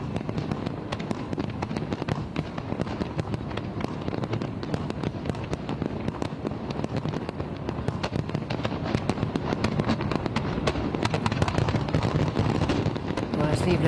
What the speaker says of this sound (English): that firework display is still going on as they bring in 2026 in grand style